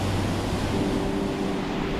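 Light sea wind by the shore on an island, a steady broadband rush with faint low tones, alone and fairly loud throughout.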